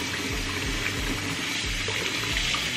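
Tap water runs steadily into a kitchen sink while shrimp are rinsed and cleaned, a continuous full splashing rush close by with no voices.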